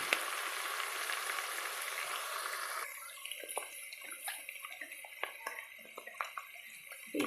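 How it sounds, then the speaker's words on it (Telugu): Ginger-garlic paste and curry leaves fry in oil for a Nellore fish pulusu. A loud, steady hissing sizzle fills the first few seconds, then drops to quieter crackles and light clinks. "అల్లం వెల్లుల్లి ముద్ద వేగినాక ఒక 4 కరివేపాకు రెమ్మలు వేసుకోవాలన్నది"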